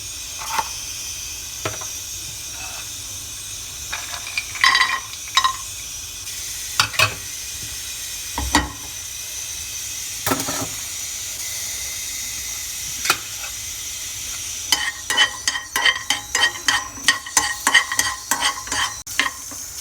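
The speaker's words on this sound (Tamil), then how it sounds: "முந்திரியும் கிஸ்மிஸையும் நெய்யில் வந்து வறுத்து வச்சுக்கலாம்." Cashews and raisins frying in ghee for sweet pongal, with a continuous close sizzle and frequent spoon scrapes and clinks that turn into rapid rhythmic stirring toward the end; nobody talks.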